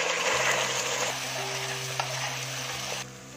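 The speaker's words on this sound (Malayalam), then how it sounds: "നമ്മൾ ഈ അരപ്പ് ഇതിലേക്ക് ഒഴിക്കുവാണേ" Ground coconut masala paste hits hot oil already holding mustard seeds, onion and curry leaves, giving a loud, dense sizzle that settles into steady frying and drops away near the end.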